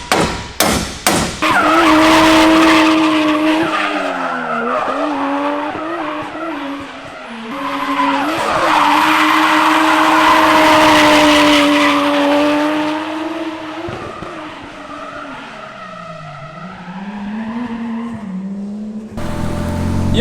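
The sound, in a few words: turbo car driving and skidding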